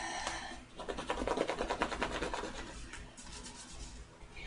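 Candle wax is rubbed by hand into art journal paper, making a close, rhythmic dry scratching and rasping that builds in the middle, then eases into fainter rubbing, with no talk.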